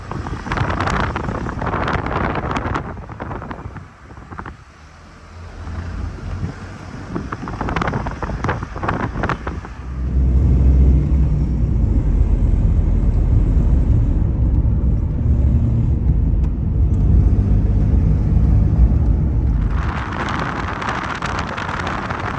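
A taxi rolls along a road in Nepal, heard from inside as a steady loud rumble of engine and tires. Heavy wind buffets the cabin, and the roar swells midway before easing off.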